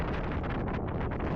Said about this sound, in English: Let's just say it was a little windy on the island.